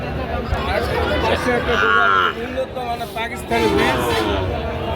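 White Sahiwal calves at a busy rural cattle market, with moos and lowing heard amid steady crowd chatter and nearby voices throughout.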